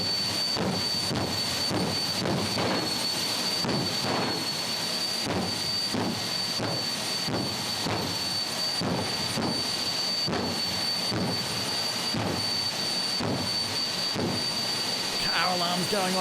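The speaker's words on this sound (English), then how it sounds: "Gotta love the afterburner pops." A jet dragster's engine roars continuously nearby, punctuated by a regular series of sharp, booming afterburner pops about every second.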